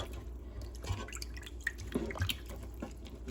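Water drips and trickles as thick-cut pork chops are lifted out of a water rinse, a few faint scattered drops over a quiet room background.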